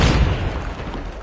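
A grenade blast in the mobile shooter Call of Duty Mobile: one deep booming burst at the start, rumbling loudly and fading into a noisy low tail over about a second, with no talk.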